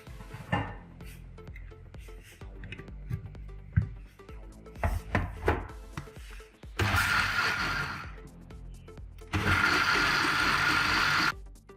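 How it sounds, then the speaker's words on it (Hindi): A blender whirs through cardamom sharbat in two loud, steady bursts of a couple of seconds each, after some clattering and knocking as the jar is handled. "अब मैं इसको दोबारा ब्लेंडर में डाल के"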